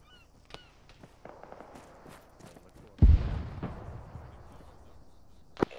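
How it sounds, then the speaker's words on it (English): A tank cannon fires in the ARMA 3 military shooter game, one loud, sharp blast with a rumbling tail, set against quieter background gunfire and ambient battlefield noise. "Is there a friendly tank shooting"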